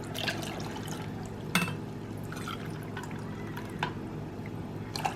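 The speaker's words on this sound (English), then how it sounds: "I'm going to add some warmer water" Warm water pours into a blender jug for cheese sauce, a soft continuous trickle with occasional brief splashes and drips, fairly quiet and without talking.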